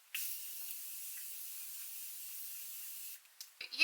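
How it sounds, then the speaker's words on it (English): A setting mist sprayed on the face hisses in one continuous burst for about three seconds, followed by a few soft rustling touches. "Using a setting spray or setting mist"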